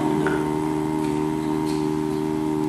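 A human voice imitates a foghorn with a low, steady, droning hum that holds unbroken and fairly loud for nearly three seconds, with no other sound.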